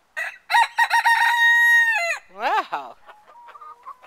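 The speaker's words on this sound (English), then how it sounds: "He's a big old rooster. Our hand-fed bar rock." A big, hand-fed Barred Rock rooster in a backyard flock crows one full, loud cock-a-doodle-doo nearby, followed by a few softer clucks. A person briefly exclaims just before it.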